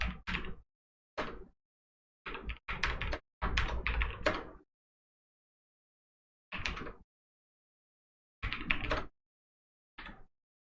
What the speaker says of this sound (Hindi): यहाँ पे हम प्रॉपर टाइप कर देते हैं।